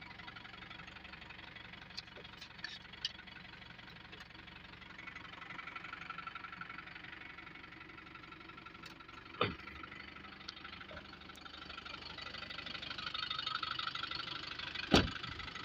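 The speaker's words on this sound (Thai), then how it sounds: "สภาพปกติสตาร์ทข้างเดียวติด พร้อมใช้งานครับ" A used car's engine idles steadily after starting first time, making a low, even hum with light rattling. A couple of sharp clicks or knocks stand out, and no one speaks.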